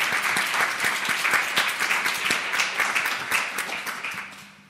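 A council audience claps in a dense, even burst of applause with crisp hand claps throughout, tapering off at the close as a voice starts to come in.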